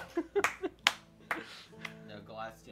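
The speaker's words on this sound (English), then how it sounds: "The master claps again." A game master claps hands several times in quick, sharp bursts during a tabletop Dungeons & Dragons session, close and crisp, with voices talking over and between the claps.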